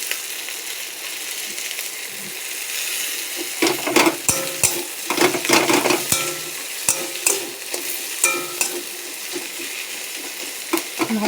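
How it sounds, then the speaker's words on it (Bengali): Tomatoes frying in a village-style curry, stirred hard with a spoon that knocks and scrapes the pan in repeated clatters over a steady sizzle, close and fairly loud, with no talking. "ভালো করে নাড়িয়ে নিতে হবে।"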